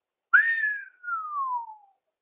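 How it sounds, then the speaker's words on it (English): A single slow, admiring whistle, starting high and gliding steadily downward with a short break in the middle, clear and close against silence. "admiring whistle"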